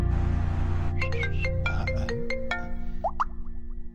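A mobile phone ringtone plays a quick melodic run of bright electronic notes, then rising chirps near the end, fairly loud and close over a steady low background hum, with no one speaking.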